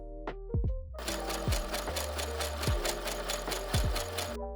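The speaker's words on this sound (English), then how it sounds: "Sew about 1/4 inch from the edge." A sewing machine runs a seam about a quarter inch from the edge of a child's summer top, a steady close whirring burst of roughly three and a half seconds after a few soft clicks, with no talking.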